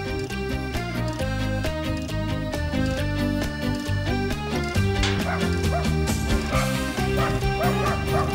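Puppies bark and yip continuously over a steady background, dense overlapping high yelps and small whimpers close by, with little pause throughout.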